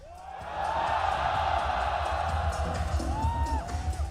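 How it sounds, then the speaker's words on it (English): A live crowd at a CS:GO esports tournament cheers and roars for team Ents, a sustained loud wash of voices with whoops rising throughout. "Make some noise if you're cheering for Ents!"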